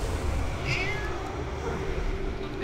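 A cat meows once, fairly faint and brief, behind a steady hum of game noise and engine-like drone in a gaming setting.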